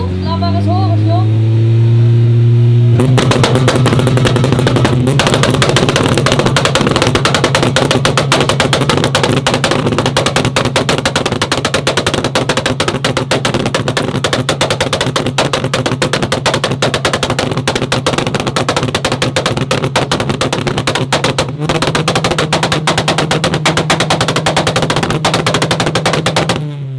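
A Suzuki Swift at a rev battle event is held at very high revs, its engine a loud, rapid-fire crackling rattle like machine-gun fire that runs almost continuously for over twenty seconds after a short rising rev.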